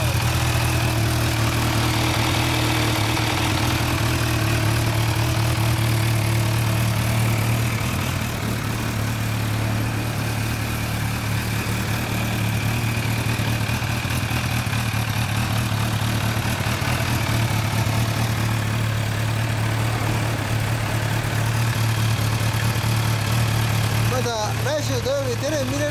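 A Kawasaki Ninja H2 supercharged motorcycle with a Trick Star exhaust idles steadily throughout, a deep constant rumble with a brief rev blip near the end.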